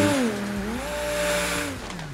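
A Lamborghini Countach LPI 800-4 supercar in GTA 5 drives with a steady, loud engine drone whose pitch dips and then climbs again as it revs, continuous throughout.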